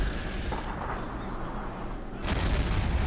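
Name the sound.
artillery barrage in Men of War: Barbarossa video game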